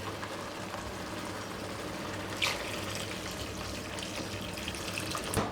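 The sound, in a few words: hot water poured into dried fish curry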